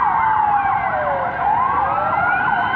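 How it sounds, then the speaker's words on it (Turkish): A Mersin fire brigade fire engine's siren wails loudly and continuously. Its pitch sweeps slowly up and down with a steady drone of road noise underneath. "Mersin itfaiyesi olay yerine geldi çok şükür."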